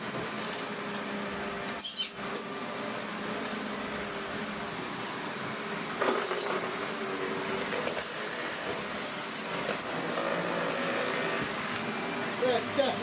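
A Vacmaster Captura vacuum cleaner runs steadily at close range with a constant broadband roar, a brief grinding surge near the two-second mark and slight rises in intensity later, like something caught in the intake.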